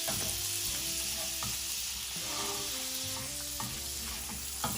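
Butter-toasted grilled cheese sandwich, made with ramen noodles and waffles, sizzling steadily in a pan, a continuous close frying hiss that runs the whole stretch with music playing softly beneath.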